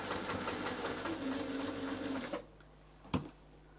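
A sewing machine runs in a close, continuous whirring stitch for over two seconds, then halts, followed by a single sharp click.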